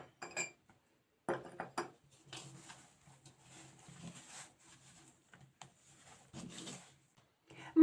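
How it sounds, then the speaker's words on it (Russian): Ceramic plates clinking and scraping as they are moved aside on a kitchen counter while making cottage cheese pastries, several short close knocks and clatters with quieter handling noise between. "Уберем, чтобы нам не мешали тарелочки."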